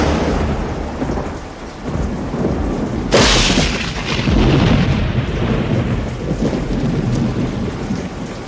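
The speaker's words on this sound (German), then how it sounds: "Die Unwetter hielten den ganzen Monat über an." A heavy thunderstorm pours steady rain while thunder rumbles, and a sharp, loud crack breaks through partway before the rolling rumble settles back into the downpour.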